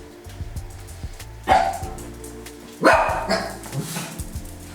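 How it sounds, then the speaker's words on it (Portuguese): Three household dogs bark during home cooking, with two loud, close bursts of barking and some softer yips between them. A low background hum runs under the barks. "A participação especial são dos cachorros, que tem 3, então se vocês ouvirem vai ser eles."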